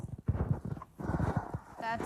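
Horses move about on a farm in winter, their hooves clip-clopping in an uneven rhythm close by, mixed with someone talking over them.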